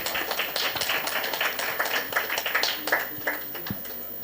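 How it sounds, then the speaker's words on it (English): Scattered hand clapping from an audience at a certificate graduation ceremony, with individual claps clearly separate and moderately quiet, forming thin applause. "A round of applause for Hilary."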